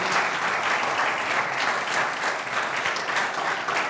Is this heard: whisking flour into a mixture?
no